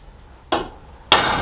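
Two sharp hammer blows on a Nashorn Sd.Kfz.164 tank track pin, struck at roughly a 45-degree angle, the second louder than the first, close by in an otherwise quiet space.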